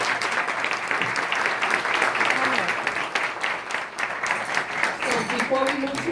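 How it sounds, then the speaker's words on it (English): An audience at a Hispanic Heritage Month award ceremony at Elmhurst Hospital Center gives a round of applause. Thick, continuous clapping fills the room with a few voices mixed in and carries on until near the end. "Another round of applause for them, please."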